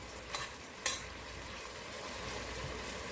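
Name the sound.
stirring brown stew chicken in a pot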